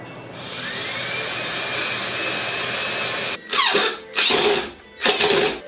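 A power drill drives screws into 2x4 boards: a long, steady whirring run, then three short, loud bursts of the motor spinning up and stopping, close by with no talking.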